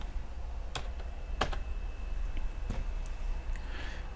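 Keys on a computer keyboard tapped in a few sparse, crisp clicks and short clusters while coding, close and fairly quiet over a steady room hum, with no talking.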